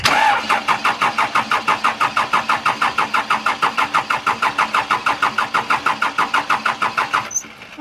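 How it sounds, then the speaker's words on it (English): A Case 580 backhoe's diesel engine cranks on the starter after its injector pump is primed, a loud rapid rhythmic churning that runs for about seven seconds and then stops without catching. "now we're getting ready to crank it"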